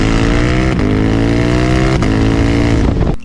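A Ducati Diavel 1260 S with altered sprocket gearing and a gold chain accelerates hard, loud and close. Its engine note climbs steeply through several quick upshifts in a few seconds.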